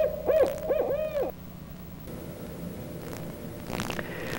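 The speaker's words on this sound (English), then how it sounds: "the hooting of the barred owl chills the blood of small creatures" A barred owl hoots in a rhythmic series of wavering calls, clear and fairly close, then fades into quiet outdoor background.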